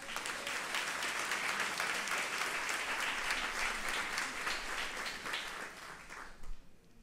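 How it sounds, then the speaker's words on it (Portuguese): A church congregation applauds together, a dense, steady wash of clapping that holds for several seconds and then thins out and stops near the end. "Vamos aplaudir o Senhor?"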